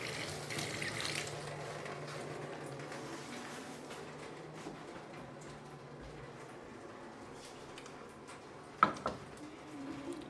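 Tap water runs steadily into a kitchen sink, a low, continuous close-up hiss, louder at first and settling, with a sharp clatter near the end.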